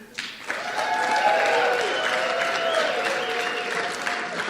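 A podcast event audience in Las Vegas bursts into sustained applause, clapping loudly and evenly for several seconds before it gradually thins out.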